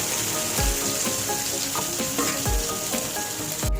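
Sliced onions with salt frying in a pan, a steady, close sizzle with crackling and occasional stirring knocks throughout.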